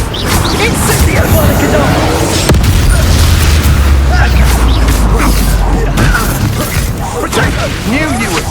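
An Incendio fire spell blast in Hogwarts Legacy, a loud, booming rumble with crackling bursts sustained over several seconds amid combat clatter and shouted voices.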